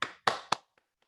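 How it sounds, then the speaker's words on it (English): Applause from a small holiday club meeting audience, three short bursts of hand claps that quickly fade, followed by two faint isolated claps. "Let's give a round of applause to our guest, Diana."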